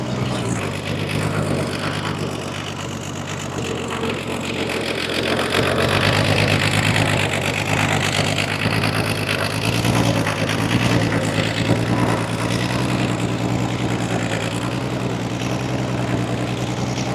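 A homemade tree farmer skidder's engine drives in low range with a flat tire on one side, a steady, loud, close rumble with a constant hum that thickens midway as the load increases.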